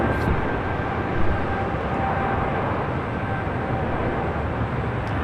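Jet airliner taking off from runway 25 left at LAX, a broad steady roar that holds at an even level throughout, heard from a distance with no talk.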